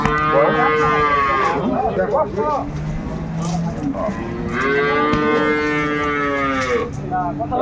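A dairy cow moos loudly twice at a cattle market in Dinajpur, long drawn-out calls separated by a pause, with people talking in the background.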